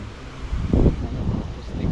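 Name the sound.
wind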